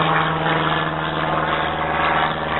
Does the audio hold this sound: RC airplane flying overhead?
yes